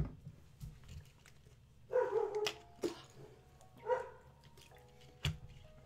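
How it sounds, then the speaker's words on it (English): Dogs bark in scattered, fairly distant bursts, several sharp yaps spaced across the stretch over a quiet background, with no speech. "All they do is bark."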